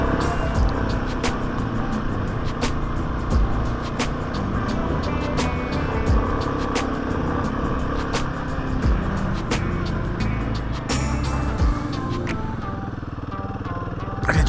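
A car grinds along a rocky mountain track strewn with loose stones beside a steep drop, its engine droning steadily throughout with crunching, knocking jolts from the stony surface, close and loud with no talk.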